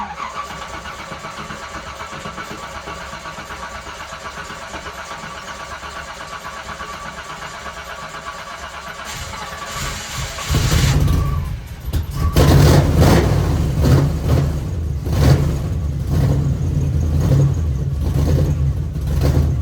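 Quiet background hum, then a Ford Raptor's 383 stroker engine with a high-rise intake cranks and catches around the midpoint, settling into a loud, rough idle that continues to the end.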